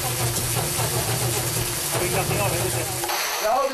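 A 1949 Centurion tank engine splutters and struggles to start, a steady rough mechanical churn that cuts out near the end, with people talking over it.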